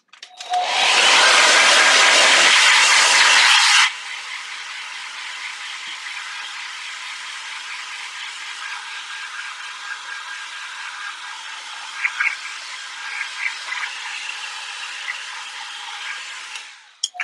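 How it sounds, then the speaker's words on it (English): A hair dryer blasts loudly for a few seconds, then drops to a steady lower whir that runs on with small fluctuations before cutting off. "going to use our hair dryer"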